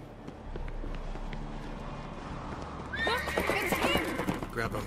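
A horse in The Witcher 3 gives a loud, close whinny after a stretch of rumbling hoofbeats and background game sound, with low voices talking underneath.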